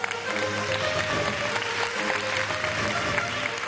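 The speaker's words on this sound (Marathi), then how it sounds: "जोरदार टाळ्या" Loud, sustained applause from a large audience greeting actress Sonali Bendre at a housing key-handover ceremony, a steady dense clatter of clapping with a faint tonal hum underneath.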